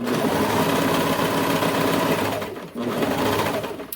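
A sewing machine runs steadily up close, stitching the center of a curved dress neckline, whirring loudly with a brief pause and restart before stopping.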